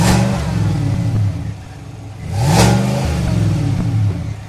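A Chevrolet Tahoe RST's V8 engine revs up and eases off twice, its deep rumbling pitch rising and falling, loud and close with a steady idle between.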